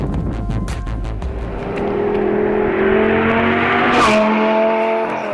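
A Lamborghini Gallardo supercar engine revs and accelerates loudly, its rising harmonic drone holding steady and swelling toward the end, with a sharp burst of tire or exhaust noise midway and no talk.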